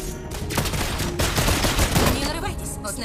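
Gunfire in the mobile game Mobile Legends, dense overlapping shots in a rapid fusillade that keeps up throughout, mixed with game effects.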